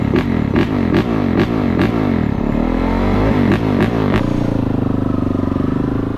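A 2023 Yamaha YZ450F dirt bike roaring loud and close while riding, the engine repeatedly revving and dropping with clattering over the track, steady and unbroken.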